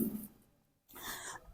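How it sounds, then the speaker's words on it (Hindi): A single short cough, then a brief breathy sound after a pause, ending with an abrupt loud click. "सॉरी, खांसी हो रहा है।"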